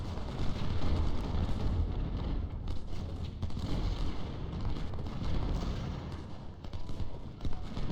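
Rumbling Civil War artillery fire in the strategy game Ultimate General: Civil War at the Battle of Antietam, a continuous low roar of distant cannon booms layered under battlefield din.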